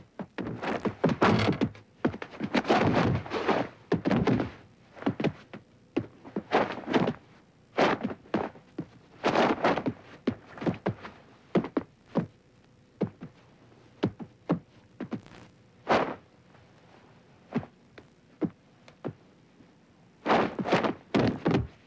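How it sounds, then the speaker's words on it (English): Thirteen channels of Foley play together: layered thuds, knocks and footstep-like impacts pile up densely, loud and close, with irregular rhythm and brief gaps; no talking. "This is 13 channels of Foley playing."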